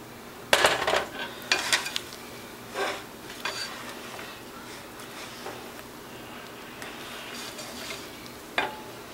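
Chocolate lava cake batter being folded in a bowl, heard as several clinking scrapes of a utensil against the bowl early on, then quieter soft stirring and one more clink near the end, close up and without voices.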